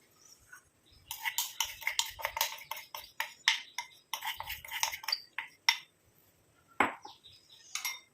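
Ingredients dropped and stirred into an iron kadai on a stove, bursts of close metallic clinks, taps and scraping clatter in irregular clusters separated by short quiet gaps.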